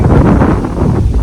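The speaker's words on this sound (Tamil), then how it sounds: "செம்ம காற்று அடிக்குது." Strong wind buffets the microphone in a loud, continuous roar of low rumble and gusts, with no voices.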